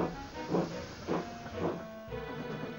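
A steam locomotive puffs along a branch line in rhythmic chuffs of hissing steam, about one beat every half second, moderately loud and steady.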